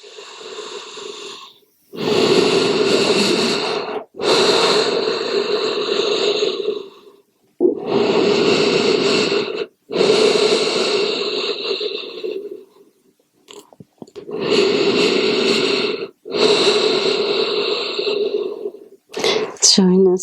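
Heavy, loud breathing during a yoga flow, long drawn-out inhales and exhales in separate bursts of a few seconds each with short pauses between, very close and heard alone.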